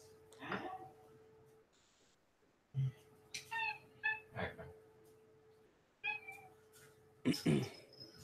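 A pet cat meows several times in short, separate calls at close range, spread across a quiet indoor room with a steady low hum underneath and no talking.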